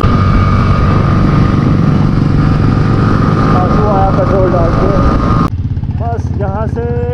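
Motorcycle engine running steadily and loud while towing another bike that ran out of petrol, on a mountain road toward Teetwal in Karnah near the India-Pakistan border; the drone continues throughout and drops slightly near the end.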